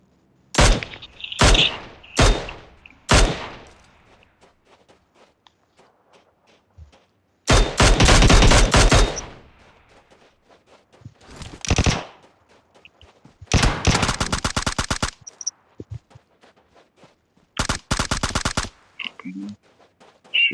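Bursts of gunfire in the mobile game PUBG Mobile: a few single sharp shots, then several loud rapid automatic volleys separated by quiet gaps.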